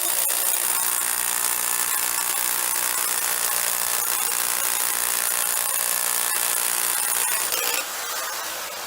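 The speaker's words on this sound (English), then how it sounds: "drilling the anchor bolt hole through the block" A power drill bores an anchor bolt hole through a concrete block wall, a loud continuous grinding whine that runs steadily, then drops in level near the end.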